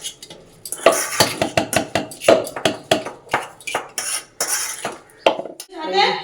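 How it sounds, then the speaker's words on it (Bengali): Flattened rice, makhana, cashews and oats are tossed together in a dry pan, producing a quick series of close, sharp scraping and knocking strokes of a spoon against metal with short pauses between, and no clear talk. "চিড়েটা নামিয়ে ওটা আম্মান আর কাজু বাদাম আর এইখানে হচ্ছে মাখনা চিড়ে আর ওটস এগুলো সব একসাথে আবার মিশিয়ে দেবো"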